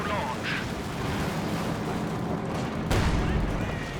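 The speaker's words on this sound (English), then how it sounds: "Light artillery barrage ready to launch." Light artillery barrage in Company of Heroes 2, a dense rumbling wash of distant shell impacts and booms, with a sharper louder blast near the end over continuous battle noise.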